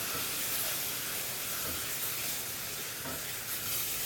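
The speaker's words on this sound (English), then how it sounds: "We're going to add a little beef stock. And this is going to deglaze." Beef stock poured into a hot pan of sautéed mushrooms and shallots to deglaze it makes a steady, even hiss of steam and sizzle, quiet and continuous with no talking.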